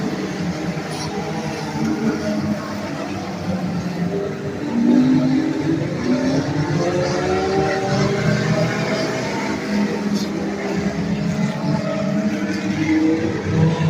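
Enduro race cars lapping Beckley Motor Speedway, a continuous distant roar of several engines that swells and fades as the pack passes, with no voices over it.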